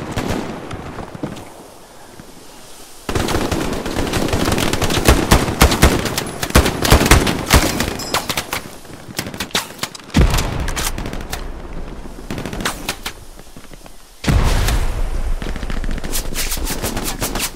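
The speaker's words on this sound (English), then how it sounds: "God, the grease gun is terrible." Bursts of automatic fire from an M3 grease gun submachine gun in the Hell Let Loose World War II shooter, with rapid close rattling volleys, distant gunfire and explosions, loud and dense across the scene.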